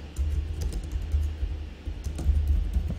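Typing on a computer keyboard, a quiet, close, irregular patter of key clicks over a low background hum.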